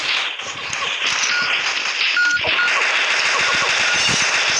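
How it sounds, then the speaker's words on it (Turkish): Rapid automatic gunfire from a weapon in the Pixel Gun 3D video game rattles in dense continuous bursts over a bright, busy game soundscape, loud and steady throughout. "Ben bu silahla çekiyorum."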